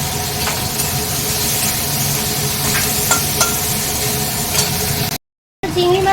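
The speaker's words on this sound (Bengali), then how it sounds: "চিংড়ি মাছটা ভেজে নেবো, ভেজে তারপরে তরকারিটা বসাবো।" Prawns fry in oil in a pan with a steady, fairly loud sizzle and a few scattered clinks, broken by a short silent gap near the end.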